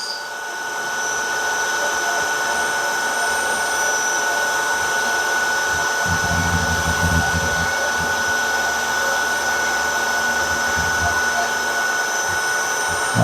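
A machine tool taking a light 0.3 mm cut on a rear cylinder cover, giving a steady continuous whir and hum that holds level throughout, with a lower rumbling patch partway through.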